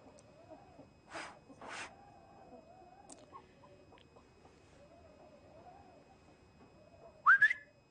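A person gives a short, sharp rising whistle to call a horse outdoors on a ranch. It comes once, loud, near the end, after a quiet stretch with faint tonal background sounds.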